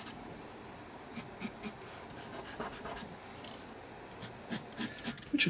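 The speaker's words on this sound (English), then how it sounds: "just with the dry charcoal pencils." Dry charcoal pencil shading on an art journal page, a soft scratchy rasp of strokes across paper, quiet and close, with brief louder scrapes coming in irregular bursts and no voices.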